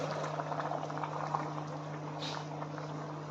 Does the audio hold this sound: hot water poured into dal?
yes